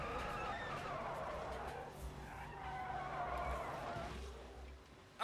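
Tires skid and screech continuously as a car in the BeamNG.drive driving game is suddenly thrown into reverse at speed, with an engine roaring underneath and a sharp crash-like burst at the very end.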